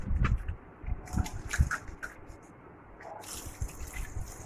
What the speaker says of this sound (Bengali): মাছটা ধোয়া হয়ে গেল।